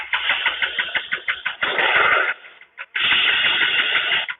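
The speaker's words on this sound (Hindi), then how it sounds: "स्विच ऑन करते हैं और बाइक का जो सेल्फ है उसको दबाते हैं बिना एक्सीलेटर दिए" A motorcycle is started with its electric self-start and no throttle, giving a rapid, rhythmic cranking that catches into a brief rough run, stops and starts again into a steady idle, close and loud.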